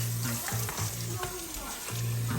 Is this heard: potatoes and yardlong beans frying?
yes